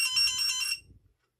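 A battery pack's PCM protection circuit, its cells discharged below 2.5 volts, sounds a shrill electronic low-voltage alarm: a dense, warbling tone that runs steadily for under a second and then cuts off, close and fairly loud with no talk.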